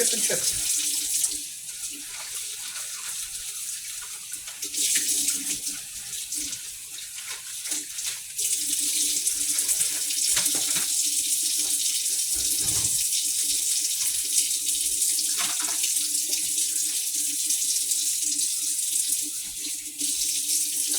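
Water runs steadily from a kitchen tap into a sink while cooking teriyaki chicken, a continuous broadband hiss and splash filling the whole stretch with slight shifts in flow.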